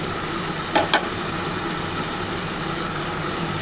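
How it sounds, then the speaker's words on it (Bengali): Chopped onions frying in a spiced masala for doi katla, a Bengali fish curry, giving a steady broadband sizzle with a low hum beneath and a couple of brief clinks of a spoon early on, no talk. "এবার এর মধ্যে আমি যে পেঁয়াজ দেখো কুচিয়ে রেখেছিলাম পেঁয়াজটা দিয়ে দিলাম।"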